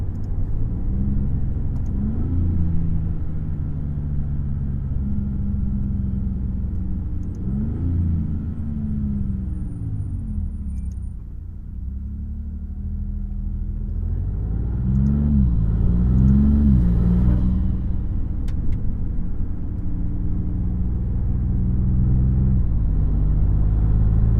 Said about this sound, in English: I love how audible this engine is. You can hear like pretty much everything. You can hear the turbo spool so perfectly.